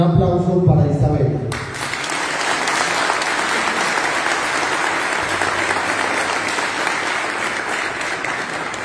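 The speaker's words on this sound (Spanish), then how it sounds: "Un aplauso para Isabel." A crowd applauds at a swearing-in ceremony for newly elected members. A brief voice comes first, then loud, steady clapping fills the room and continues without pause.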